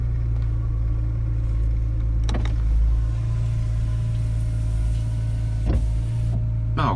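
A steady electric motor whine from the power window or sunroof of a BMW E46 M3 runs throughout over a low engine hum, with a few clicks and thumps.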